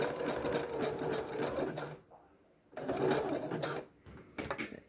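A sewing machine runs in steady bursts while stitching paracord onto a fabric face mask, its motor whirring close and loud, pausing briefly twice before starting again.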